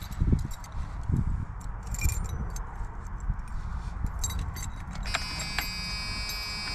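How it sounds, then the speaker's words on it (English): Car keys jingle and clink in a few quick shakes up close, followed by a steady high-pitched electronic chime or alarm tone ringing continuously in the background. "But this is how I find my keys."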